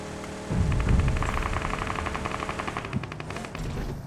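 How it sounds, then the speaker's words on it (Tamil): Bursts of automatic gunfire crackling in a battle royale video game, fairly steady rattling shots of moderate loudness over continuous in-game ambience. "இங்க ஃபயரிங் சவுண்ட் அடிக்குது இந்த பக்கத்துல பாத்து."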